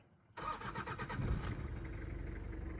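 A 2012 Toyota Hilux engine cranks briefly, catches and settles into a steady idle, close and moderately loud, with no talking.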